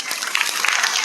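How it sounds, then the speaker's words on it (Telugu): A crowd at a school birthday celebration claps fast and densely, giving a brief burst of close applause with no voices. "give him big claps to birthday"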